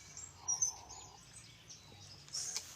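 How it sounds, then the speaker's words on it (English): Birds chirp at sunrise by Lake Tarawera in New Zealand, giving a few faint, high, scattered calls, one early and another near the end, against a quiet outdoor background. "We've got birds chirping, the sun's still on the rise"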